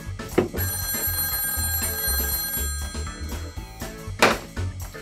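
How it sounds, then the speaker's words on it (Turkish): A telephone rings indoors in repeated bursts of bright electronic tones over a thumping, rhythmic background. "Telefon çalıyor bir dakika."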